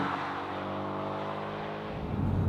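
A Porsche 718 Boxster, the lightest version with a manual gearbox, drones along at a steady pitch from inside the cabin, its engine note rising and swelling louder near the end.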